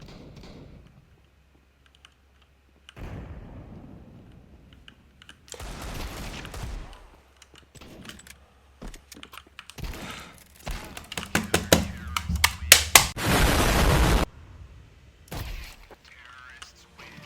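Shotgun blasts in a video game, a few sharp broadband bursts that build into a loud cluster of rapid shots near the end, with game sounds between them.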